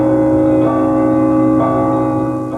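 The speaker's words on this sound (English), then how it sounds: "The new bell tolls loudly across the center of Moscow" A large ceremonial church bell at Christ the Savior Cathedral in Moscow tolls loudly, with rich sustained humming overtones and a couple of fresh strikes about a second apart, ringing out across the city centre.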